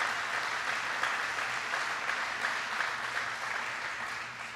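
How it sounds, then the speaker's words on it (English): An audience at a clean energy manufacturing event applauds Congresswoman Gwen Moore, a sustained crowd clapping that stays even and full before easing off slightly at the end, with no speech over it. "Please give her a big round of applause."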